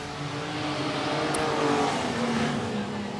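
Modified production race cars roar around Gympie Speedway during a night race, a steady, loud wash of engine noise with layered tones from several cars running together and no clear pauses.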